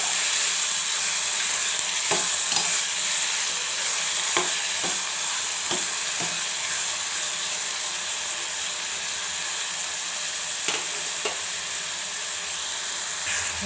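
Tomato pieces frying in a pan with turmeric-free oil base are stirred with a spoon, giving a steady sizzle throughout and a few sharp scraping clicks against the pan at irregular intervals; no one talks.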